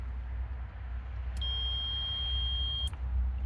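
Multimeter continuity beep while testing the wire of a transbrake button: one steady high electronic tone lasting about a second and a half, close and clear over a low background hum.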